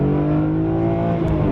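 A BMW E46 M3 accelerates with a loud, sustained engine note that holds steady and rises slightly, heard from close up with no talk over it.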